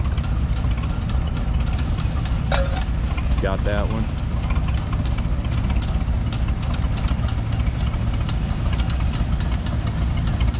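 A tractor engine idles steadily and loudly close by at a threshers' summer show, with a low knocking chug, while someone speaks briefly over it.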